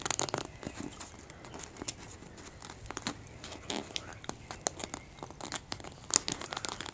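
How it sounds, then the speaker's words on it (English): Origami paper is folded and creased by hand, giving close, crisp crinkles and rustles in irregular bursts, with soft speech faintly in the background. "you're going to fold the bottom, then you're going to fold the left,"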